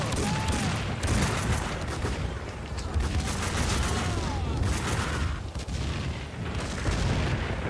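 Dense gunfire and repeated explosions in the video game Max Payne 2: The Fall of Max Payne, loud and continuous with booming blasts and rattling shots throughout.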